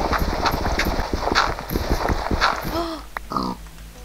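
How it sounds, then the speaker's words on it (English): Minecraft pig grunts come through as a few short, close calls amid steady footstep-like clopping and game ambience, with a voice speaking over parts of the scene. "It's a pig!"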